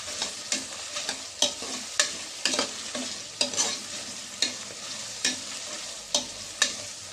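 Vegetables frying in a pan with turmeric and salt are stirred, giving a steady sizzle broken by regular sharp scrapes of the spoon roughly every half second, close and fairly loud, with no talk.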